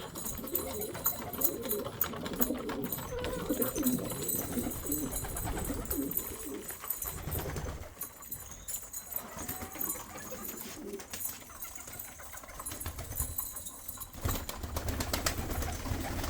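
Pigeons flying overhead, including a black-patterned and a red-backed bird, with steady cooing and bird calls over a dense, constant outdoor background for most of the stretch; no talk.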